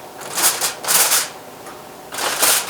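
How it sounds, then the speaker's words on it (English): Aluminium foil peeled off a hot enchilada baking pan, three bursts of close crinkling and rustling separated by brief pauses. "let's pull out the pan and remove the foil"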